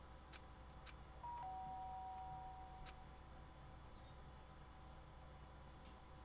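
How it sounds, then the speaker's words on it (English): A doorbell rings once in the Danganronpa: Trigger Happy Havoc video game, a short, thin electronic tone held for about a second and a half over a steady, quiet room hum. "The sharp sound of the doorbell pierced my sleepy haze and pulled me back to the real world."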